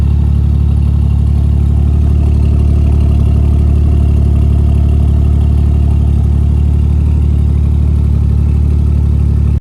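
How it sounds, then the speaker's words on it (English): A car engine, still on its original cam, idles loudly and steadily close by, a deep continuous rumble with a faint mechanical clatter and no voices. "let's give this car a start so you can hear what it's going to sound like"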